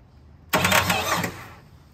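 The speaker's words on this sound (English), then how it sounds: "we're gonna try this hot wire at the starter only" A Ford XY Falcon ute's starter motor, hot-wired at the starter, cranks in one loud close burst of about a second, a harsh whirring grind that stops abruptly, with no talk.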